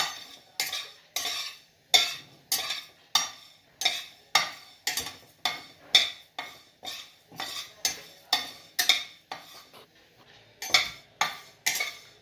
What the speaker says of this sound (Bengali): উড়দ ডালটা আমি দিয়ে দিলাম এটাকে একটু ভাজবো